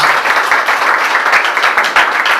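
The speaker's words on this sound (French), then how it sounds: "On peut les applaudir." An audience at a ceremony claps loudly and steadily, a dense, close wash of many hands that holds without pause throughout.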